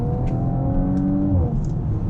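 A 2018 Audi RS5 2.9L TipTronic Quattro pulls away from a roundabout in a manually selected lower gear, its engine rising steadily in pitch as it accelerates, loud and close from inside the cabin.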